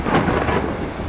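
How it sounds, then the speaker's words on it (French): Thunder rumbles through a stormy night in the horror video game Kraven Manor, a dense, continuous roll of low booming with rain hiss, loud and unbroken with no talking. "Les éclairs, ils me stressent"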